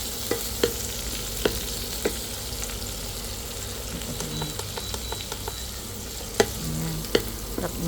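Tomatoes go into ampalaya (bitter melon) frying in a pan, giving a steady sizzle with scattered sharp clicks of a utensil stirring against the pan, close and continuous with no talk.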